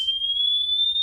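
A pure 3000 hertz test tone, one steady, clear, high whistle held for about a second, alone.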